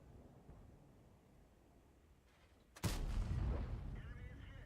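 A single loud, sharp tank cannon blast from the World of Tanks video game erupts after a quiet stretch, with its broad roar ringing on and decaying for the rest of the moment.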